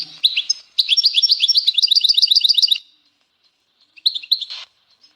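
A goldfinch sings a fast run of liquid twitters and trills up close, pauses briefly, then adds a short final burst of chirps.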